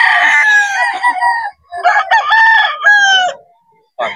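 A young gamecock, a stag, crows repeatedly at a busy poultry market in Bocaue, its loud, close calls rising and falling in several bursts with short gaps between them.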